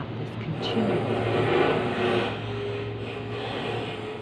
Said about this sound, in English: There's the plane going over the roof.